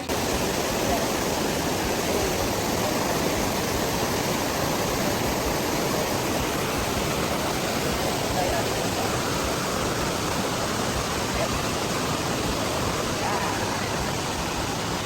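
Steady, loud rushing roar of Daranak Falls that fills the whole time without pause, close by and unchanging.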